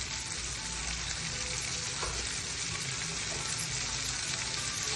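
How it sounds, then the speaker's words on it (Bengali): Chicken frying in oil, a loud, dense and unbroken sizzling hiss with crackle, close up and alone. "যখন আমরা ভাজতেছি দেখেন আপনারা"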